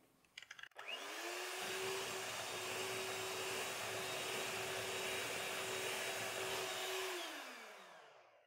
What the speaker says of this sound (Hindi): अब इसमें अंडे डालेंगे और इसे बीट करते जाएंगे।